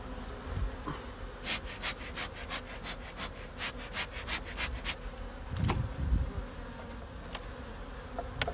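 Honeybees buzzing around a hive with a few flying loose near a half-clustered colony, a close continuous hum with rising and falling drone.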